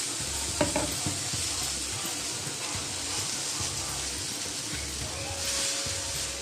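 Uttapam batter sizzling steadily on a hot pan, a continuous close frying hiss with a few soft spoon and pan clinks near the start.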